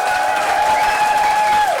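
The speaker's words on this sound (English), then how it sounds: "Give her a round of applause" An audience at the National Indigenous Arts Awards 2019 ceremony breaks into loud, sustained applause, dense clapping with a light crowd murmur, holding steady the whole time over a faint tonal hum.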